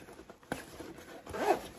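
Zipper on a JuJuBe Eco Collection tote bag, a couple of faint soft zips and a short rasping pull near the end, close by amid light handling rustle.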